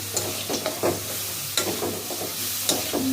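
Spices, egg and lentils being stirred in a pan, with repeated scraping strokes over a steady frying sizzle, close and fairly loud with no voices.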